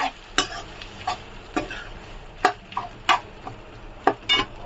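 Sabudana khichdi with potato stirred in a pan, a series of scraping spoon strokes and light taps at uneven intervals over a low background, fairly close and moderately quiet.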